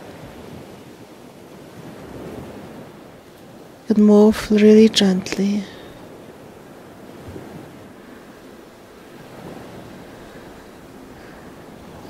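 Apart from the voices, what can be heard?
ocean waves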